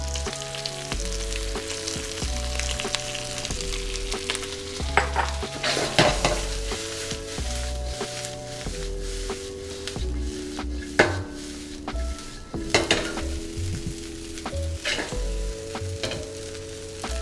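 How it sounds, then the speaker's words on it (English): Rice being stir-fried in a pan for New Orleans-style breakfast fried rice with bacon, a continuous loud sizzle with frequent scraping and clattering of the spatula against the pan, backed by music. "Next, we're going to add our rice."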